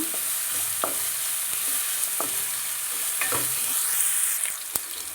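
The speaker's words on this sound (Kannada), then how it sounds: "ನೋಡಿ, ಈರುಳ್ಳಿ ಕೂಡ ಚೆನ್ನಾಗಿ ಫ್ರೈ ಆಗ್ತಾ ಬಂದಿದೆ" Onions sizzle and fry in a pan for a sweet pumpkin curry, a steady, moderately loud crackle with a few soft clicks of stirring, and no voices.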